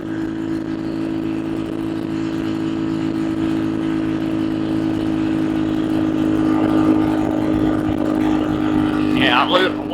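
A small nitro-style RC car engine, the RPS Racer with a Nibbi PE26, drones steadily at high revs while climbing a hill in top gear. Voices talk over the engine near the end.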